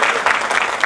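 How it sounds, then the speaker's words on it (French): A brief burst of steady, close audience applause at a French workplace health talk, with no one speaking over it. "Ça vous a plu? Applaudissez donc."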